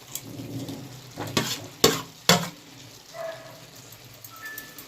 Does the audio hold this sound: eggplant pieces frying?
yes